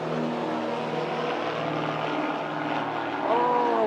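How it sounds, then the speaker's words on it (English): Several low-flying propeller planes and a helicopter pass overhead near an island anchorage, producing a steady, fairly loud engine drone with a rising tone near the end and no speech. "there's 3 planes, man, taking off at the same time"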